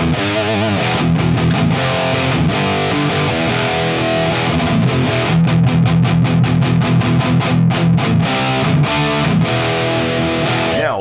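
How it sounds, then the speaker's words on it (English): An electric guitar plays through an amplifier alone, no pedal, with a raw, slightly gritty tone, loud and close, strumming chords and picking notes without any other sound. "So here's what the raw tone sounds like just with the amp"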